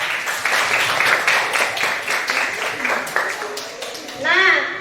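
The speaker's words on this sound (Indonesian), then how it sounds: "tepuk tangan untuk kalian" A classroom of students claps together for several seconds, a dense steady patter that fades slightly before a voice speaks at the end.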